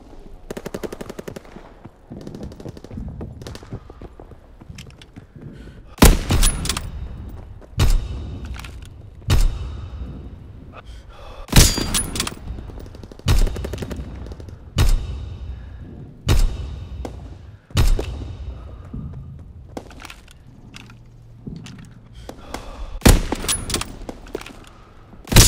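Repeated bursts of rapid automatic gunfire with heavy thumps from a Call of Duty match in the Sainte Marie Du Mont town map, loud and close, arriving in clustered volleys with brief gaps between them.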